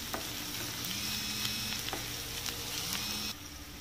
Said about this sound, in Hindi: तो इस तरीके से भूनते हुए मुझे 2 मिनट हो गए हैं, तो प्याज का कलर थोड़ा चेंज हो गया है